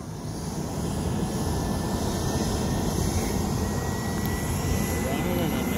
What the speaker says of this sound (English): get the video with the helicopter taking off